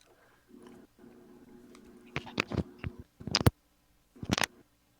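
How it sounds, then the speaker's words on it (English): Close-up chewing picked up by a microphone during an online card game chat: soft irregular crunching and wet bites in short bursts, fairly near and quiet, with brief pauses between clusters. "That might have been me chewing."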